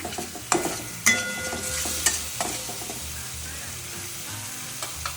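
Ground spice paste for onion- and garlic-free dum aloo fries in oil in a pan, a close soft sizzle broken by scraping stirs and a few sharp clinks of the spoon.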